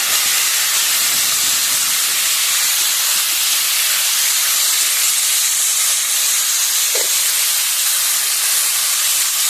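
Water hitting a very hot pan of spiced ingredients with turmeric and salt, producing a loud, steady sizzling hiss that fills the whole stretch without pause.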